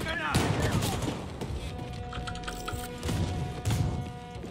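Enemy gunfire in the Wolfenstein II shooter game crackles in rapid, overlapping bursts with sharp impacts and clatter, a dense barrage of shots layered over game ambience.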